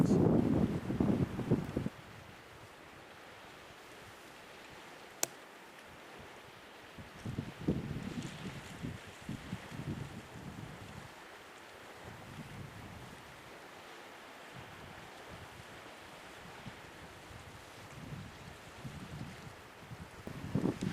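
Wind blows across the Atlantic coast at a wild camp, a rough gusting roar buffeting the microphone that surges loudly at the start and in later waves, with surf-like rushes between quieter lulls.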